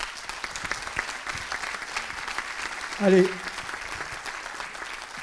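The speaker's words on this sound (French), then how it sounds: "on peut l'applaudir, s'il vous plaît." An audience at a conference gives fairly faint applause, a steady patter of clapping throughout, with a voice briefly calling out in the middle.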